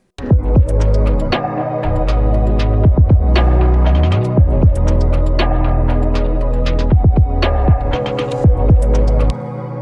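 A thick synth pad plays within a full, driving mix with steady low bass and repeated sharp drum hits.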